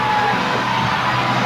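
Wrestling crowd at a UWF lumberjack tag-team match cheering and yelling, a steady, loud roar of many voices filling the whole moment.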